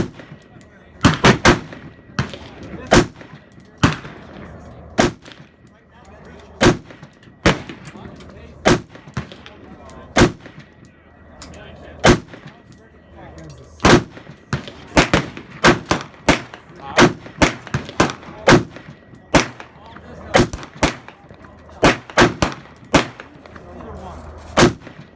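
Rifle shots from an AR at an outdoor shooting range, fired one at a time in an irregular string of sharp, loud cracks over about 25 seconds, with brief quiet gaps and faint voices between.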